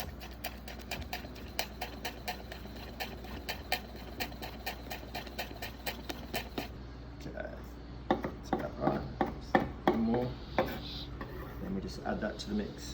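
A knife chopping a folded lime leaf finely on a board: a steady run of quick, even taps, then sparser, irregular cuts, with someone talking over them.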